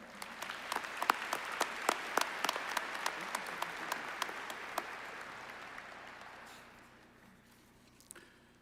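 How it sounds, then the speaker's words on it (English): A university commencement audience claps for the platform party at a college of arts and sciences ceremony. The applause is fairly quiet, distant and hall-like, with crisp individual claps, and it fades out toward the end, leaving a few scattered claps. "Please join me in a round of applause for the platform party."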